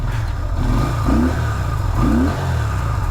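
A carburetted 1994 Yamaha Virago 250 motorcycle idles while warming up with the choke slightly on, a steady close low rumble with a couple of faint rising notes.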